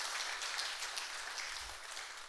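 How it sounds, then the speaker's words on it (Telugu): An audience at a church silver jubilee celebration claps loudly and steadily, a dense, sustained burst of applause from many hands that fills the room and fades slightly toward the end. "గట్టిగా చప్పట్లు కొడుతూ కృతజ్ఞత తెలియజేద్దాం"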